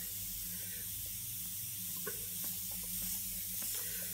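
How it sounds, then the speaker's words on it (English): An airbrush spraying Daler-Rowney ink onto a drawn face gives a soft, steady hiss of air and spray, close and continuous for a few seconds, with faint small clicks and handling noises underneath. "Let's spray this face."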